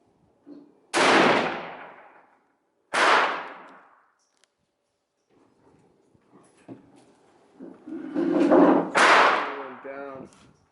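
Rifle shots fired at a target outdoors, two loud sharp cracks a couple of seconds apart, then a pause, a softer shot and a final loud crack with echoing decay, and brief voices among them.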